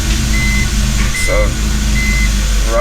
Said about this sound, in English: rough idle like that.